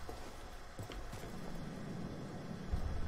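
Rhythmic hoof clops of a horse in the video game Battlefield 1, fairly faint, under a steady wash of ambient background noise.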